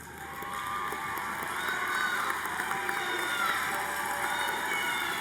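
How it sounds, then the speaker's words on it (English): Graduates applauding their families at a business school undergraduate commencement ceremony in an arena: broad, distant crowd applause swells up and holds, mixed with cheering and shouts. "Turn to them and give them a grateful round of applause."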